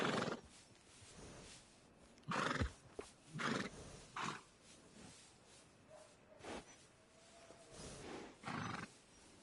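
A horse in a PS4 video game gives several short snorts and neighing bursts at irregular intervals, moderately loud over a quiet background, with no speech.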